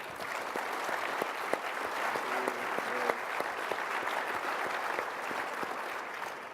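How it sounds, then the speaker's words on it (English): Sustained applause from a conference audience for a retail IT leadership panel, a steady even patter of many hands throughout, moderately distant and without a break, with a faint voice briefly audible beneath it. "how about finally a big round of applause for our leadership panelists today"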